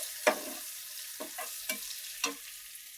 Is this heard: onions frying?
yes